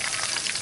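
Fish frying in a pan gives a dense, close crackling sizzle that holds steady through a brief moment, with no voices over it.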